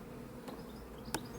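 Honey bees buzz around an opened hive during a colony inspection, a steady low insect hum with a couple of brief sharper bursts as bees fly close by, no talking.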